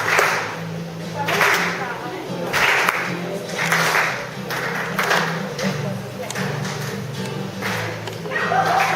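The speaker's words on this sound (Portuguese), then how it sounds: "Com palmas." Church congregation clapping along in a steady, even beat during a Portuguese worship song, the claps ringing out clearly over the singing.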